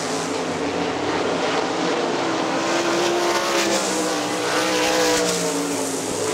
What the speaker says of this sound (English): Dane Knight on the move on the inside in car number 54.